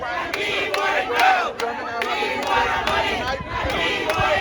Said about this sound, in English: That is the sound of dozens of Bahamas National Alliance Trade Union Congress